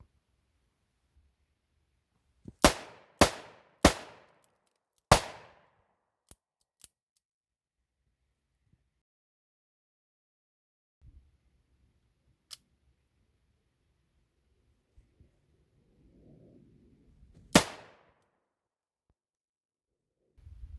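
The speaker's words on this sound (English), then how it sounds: "what if I did Humphrey Bogart hip fire with 357 Magnum?" A Smith and Wesson Model 60 revolver fires .357 Magnum rounds from the hip outdoors. Four sharp reports come in quick succession, then a longer quiet stretch before one more lone shot, with faint low rumbling between.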